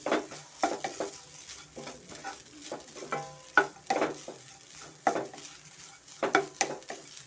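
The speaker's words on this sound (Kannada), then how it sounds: "ಇದನ್ನು ಸ್ವಲ್ಪ ನಾವು ಚೆನ್ನಾಗಿ ಫ್ರೈ ಮಾಡ್ಕೊಬೇಕಾಗುತ್ತೆ ಎಣ್ಣೆಯಲ್ಲಿ" Grated coconut and roasted gram powder frying in oil, with a spoon repeatedly scraping and stirring the pan in short irregular strokes over a faint sizzle.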